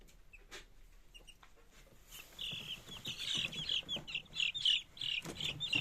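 Chickens cluck in a quick repeated series, moderately close, growing louder after a quiet start with faint background rustling.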